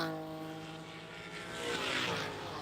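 A race car at an SCCA Super Tour event at Watkins Glen drones with a steady, buzzing engine note that swells louder as the driver gets back on the throttle.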